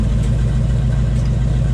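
A 1935 Dodge rat rod engine idles close by, a steady and loud low rumble that holds without a break for the whole stretch.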